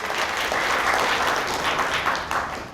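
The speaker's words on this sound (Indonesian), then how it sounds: "Tepuk tangan untuk beliau." Sustained audience applause at an Indonesian people's-economy event, steady and dense clapping from a crowd at close range for the full length with no speech.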